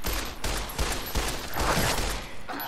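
Rapid gunshots pop in a steady string, roughly a few per second, loud and close during a fight against ghouls in the video game Fallout: New Vegas.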